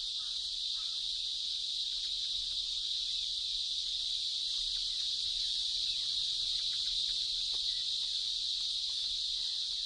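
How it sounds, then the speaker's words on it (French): Chorus of cicadas in trees in wild India, a steady, unbroken high-pitched shrill drone with no pauses, moderately loud and monotonous throughout with no talk. "Chaque arbre peut accueillir une centaine de cigales. Le bruit qui en résulte est si fort qu'il repousse les oiseaux"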